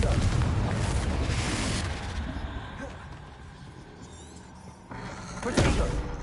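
A Confringo fire-blast spell explodes in Hogwarts Legacy, with a rumbling boom that fades over several seconds, then a second sharp blast near the end, with speech mixed in.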